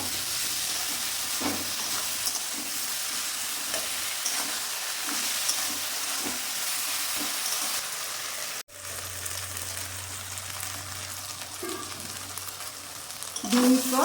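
Garlic, ginger and onion paste fries in hot oil, a steady close sizzle with soft stirring scrapes, briefly interrupted before the hiss resumes and a louder clatter at the end.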